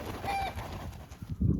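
Two turkeys give a short, soft gobbling call close by on a snowy farm, followed by a low rustle.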